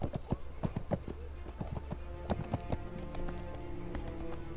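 A horse named Providence in the 2010 PS3 game Splatterhouse, its hooves clip-clopping in a steady trotting rhythm, fairly close and clear over a low ambient hum.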